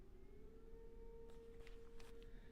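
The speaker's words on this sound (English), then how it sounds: "You guys can hear that, right? The siren?" A volunteer fire department siren, a little over a quarter mile away, holds a faint, steady wailing tone under low background hiss.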